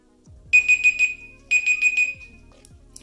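A Google Pixel 4 XL phone timer alarm sounds as two close bursts of rapid, high-pitched beeps, four beeps each, loud against near silence with faint low thumps around them, then stops.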